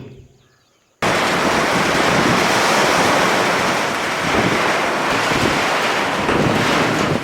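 Heavy rain pours down in a Chitradurga forest beside a pond, a loud dense hiss that starts suddenly after a moment of near silence and then holds steady.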